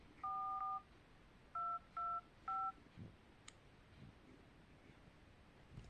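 Four short, clean DTMF keypad tones from an LG mobile phone being dialed, one and then a quick run of three, quiet and close, followed by faint handling noise.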